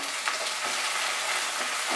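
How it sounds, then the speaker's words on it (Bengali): Chopped tomato and onions fry in a pan for a Bengali aar fish curry, a constant close sizzle with light stirring scrapes and no voices. "পেঁয়াজটা যখন হালকা বাদামি রঙের ভাজা হয়ে যাবে তখন এর মধ্যে টমেটো কুচিটা দেব"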